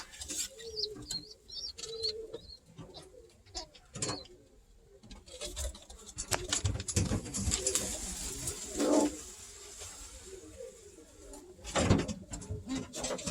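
Racing pigeons in a loft give soft, intermittent cooing, moderately close, mixed with scattered rustling, flapping and mechanical clicks against a quiet room.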